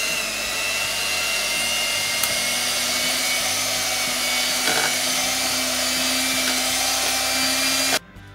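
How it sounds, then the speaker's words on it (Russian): An electric hand mixer whirs continuously as it beats sour cream and softened butter for a lemon cake batter, a steady close motor whine that cuts off abruptly near the end. "Добавляю сметану, размягченное сливочное масло и взбиваю все до однородного состояния."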